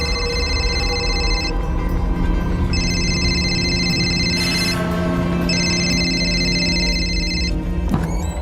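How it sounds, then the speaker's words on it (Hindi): A telephone rings unanswered, repeated electronic ring bursts in a regular on-off pattern, loud and close over a steady background hum, with a brief clatter near the end. "रिंग जा रही है, कोई पिक नहीं कर रहा है सर"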